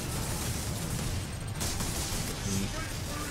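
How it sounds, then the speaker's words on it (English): Explosions and gunfire in the Space Marine video game make a dense, continuous barrage of rumbling blasts and crackling shots, loud and unbroken throughout. "So many random explosions!"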